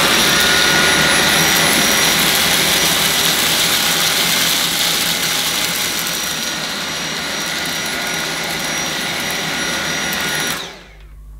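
A Dyson V7 Motorhead cordless vacuum cleaner runs on its max setting with a loud, steady high-pitched whine for about ten seconds, then winds down as it is switched off.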